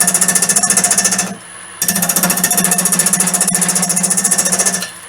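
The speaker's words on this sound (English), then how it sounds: "Okay, so I'll just turn the lathe up a little bit" A wood lathe spins an off-centre goblet blank, producing a loud, rapid, rhythmic thumping vibration that runs steadily, drops off briefly, then resumes just as strongly before winding down.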